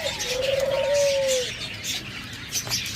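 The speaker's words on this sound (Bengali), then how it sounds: "দেখুন পর্যাপ্ত পরিমাণ সাদা ঘুঘু রয়েছে" White doves cooing among caged pet birds, one clear drawn-out coo near the start followed by fainter chirps and rustling, with no talking.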